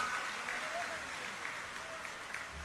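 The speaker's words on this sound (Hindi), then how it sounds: "एक बार सभी तालियां बजा के" Applause from a crowd greeting the Deputy Chief Minister of Haryana at an election nomination rally: a steady, dense wash of clapping, moderately far, running the whole time beneath a voice over a loudspeaker.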